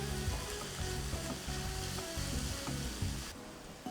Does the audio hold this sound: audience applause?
no